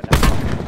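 Gunfire in Call of Duty Blackout fired through a wall, a short cluster of loud, close shots lasting under a second, alone without talk.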